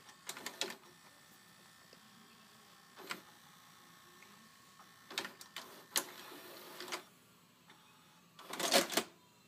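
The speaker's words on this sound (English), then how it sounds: "Okay, let's stop and eject." A Daewoo DV-T8DN VCR stops and ejects a used tape, giving faint mechanical clicks, whirs and clunks in short separated bursts, ending with a louder rattling eject.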